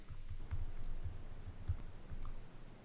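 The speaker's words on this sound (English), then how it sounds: "typing" Soft keystrokes on a computer keyboard, a quick irregular run of light clicks and taps, close but quiet, with no talking over them.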